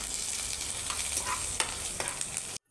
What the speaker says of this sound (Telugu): తర్వాత కొద్దిగా కరివేపాకు వేసి ఒకసారి ఫ్రై చేద్దాం.